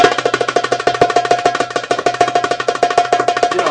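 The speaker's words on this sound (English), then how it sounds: "So, obviously, a continuous roll sounds like this." A darbuka plays a continuous roll, a fast, steady stream of crisp, even strokes with no breaks, loud and close throughout, with no talk.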